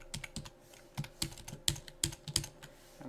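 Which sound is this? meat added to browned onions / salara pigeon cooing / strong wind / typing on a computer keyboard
typing on a computer keyboard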